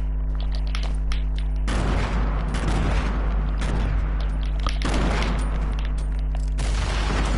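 Grenades explode in a shooter video game in a dense barrage of loud booms and crackling blasts over a constant low rumble, several bursts arriving in close succession without speech.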